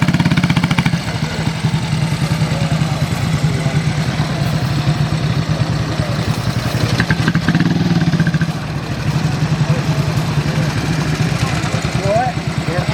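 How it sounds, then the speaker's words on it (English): Military motorbikes at a historical show, engines idling and puttering in a steady throb with some revving, loud and close, while people talk over the noise. "Loads of bikes, isn't there?"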